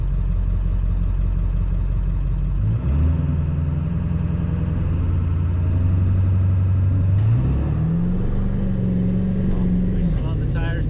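A 7.3 Powerstroke truck launching from a stop in a 0 to 60 run, the engine roaring louder as it climbs through gears with a rising whine, tires spinning, loud and close throughout.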